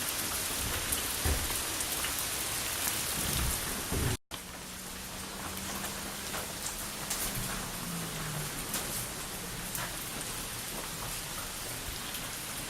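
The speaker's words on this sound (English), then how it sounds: "Rain outside." Steady heavy rain pours down nonstop outside a shelter, a dense hiss drumming on a nearby surface, with a low rumble partway through.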